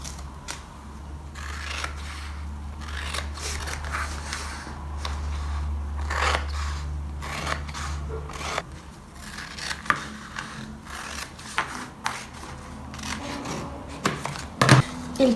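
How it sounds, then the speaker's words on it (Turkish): Scissors cut freehand through sketchbook cover material, making a series of crisp, close snips in an irregular rhythm with soft rustling between cuts. "Şöyle göz kararı kesiyorum."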